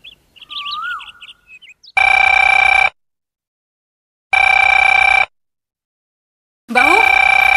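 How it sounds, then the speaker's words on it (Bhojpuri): An electronic telephone rings in three loud, evenly spaced bursts, each lasting about a second, preceded by faint bird chirps in an otherwise quiet room. "जरूर पूजा का फोन हुई"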